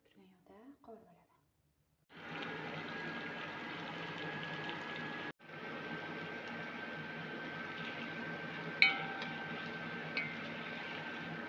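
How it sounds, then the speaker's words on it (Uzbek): Vegetables frying in hot oil in a pan: a steady, even hiss of sizzling that starts suddenly, breaks off briefly and resumes. A few faint clinks sound over it. "Endi bularni qizib turgan yoqda qovurib olaman."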